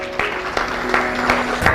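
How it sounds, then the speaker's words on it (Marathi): Audience in a goal-setting seminar hall clapping, a short loose burst of handclaps with a few distinct louder claps, set against a faint steady hum. "त्याला जोरदार टाळ्या वाजवा"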